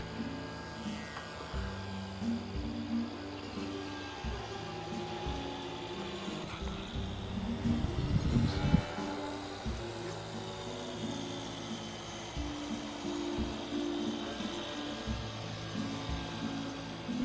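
A Mini Drake RC model floatplane flying touch-and-go passes, its electric motor giving a steady, buzzing whine that swells louder around the middle as it passes close, then settles back to a constant drone.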